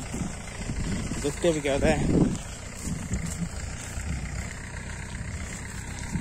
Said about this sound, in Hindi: अभी हम इस चिखल में से बाहर निकालेंगे अपने इस ट्रैक्टर को और ड्राइव कर रहे हैं